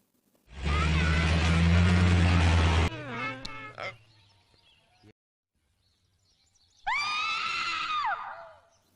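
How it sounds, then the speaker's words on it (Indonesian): Panicked people in an Indian film screaming in fear at a cobra inside a house: a long loud burst of shrieking, a shorter wavering cry, then quiet before another sustained high scream. "mereka disambut oleh teriakan orang-orang yang ketakutan dengan kehadiran ular kobra di tengah rumah"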